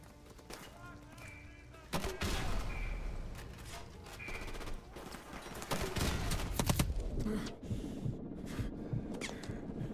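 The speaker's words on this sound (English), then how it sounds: "Finally, the grenade launcher works." Grenade launcher fire and explosions in Call of Duty: Modern Warfare, loud repeated booming blasts amid dense battlefield gunfire, with voices talking over the chaos.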